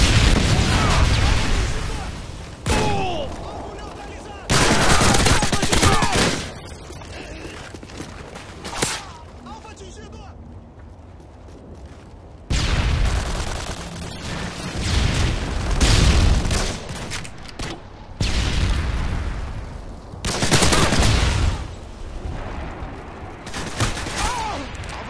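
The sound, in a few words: predator missile strike and gunfire in Modern Warfare 2 video game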